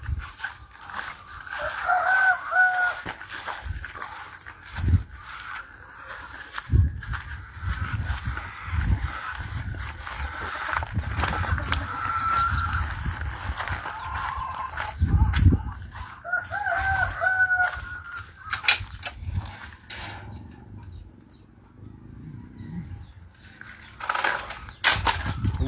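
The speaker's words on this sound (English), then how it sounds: "I think inside the chicken house." Inside a chicken house, a rooster crows several times while hens cluck steadily around it, with shuffling, rustling and mechanical clatter in a busy, enclosed space.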